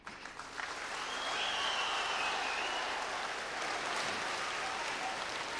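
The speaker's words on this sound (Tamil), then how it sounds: "இந்த கைத்தட்டல் ஓசையை கேட்கிறது அந்த வானம்." Applause from a crowd at an outdoor stage event in a village, a steady dense patter of clapping rising after the first second and holding at moderate loudness to the end, with no talk over it.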